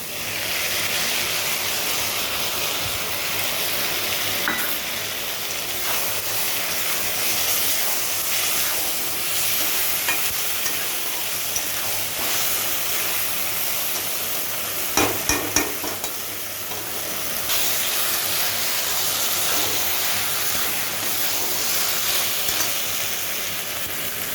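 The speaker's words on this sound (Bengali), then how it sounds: "সমস্ত সসগুলো যে মিশিয়ে রেখেছিলাম সেগুলো দিয়ে দিই।" Mushroom chilli fries in a pan as mixed sauces go in, giving a continuous loud sizzle and hiss with occasional stirring clatter, close and without talk.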